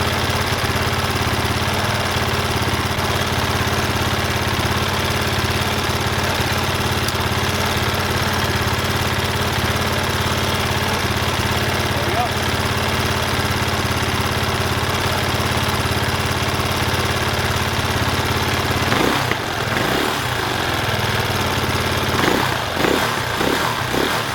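A dirt bike engine idles steadily to warm up before an oil change, a loud, continuous close-up chug, with a few brief knocks near the end.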